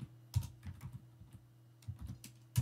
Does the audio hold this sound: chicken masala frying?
no